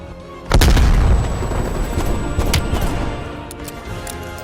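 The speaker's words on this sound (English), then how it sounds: "Grenade!" A grenade explodes with a heavy boom in the Call of Duty Cold War campaign on PS5. The loud blast sets off a long rumbling roar that fades slowly, and a few sharper pops follow.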